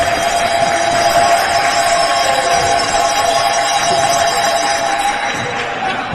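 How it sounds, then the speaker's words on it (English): A tchoukball crowd at a European championship final applauding with jangling bells, a loud dense wash of clapping and ringing that holds steady and then eases slightly. "Again, earns that round of applause and the bells jangle."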